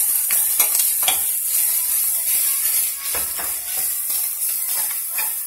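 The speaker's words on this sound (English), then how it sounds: "I'm just going to stir it around. Stir it." Hamburger meat for sloppy joe frying in a pan over medium heat, with a steady close sizzle and repeated scraping strokes as it is stirred, no voices.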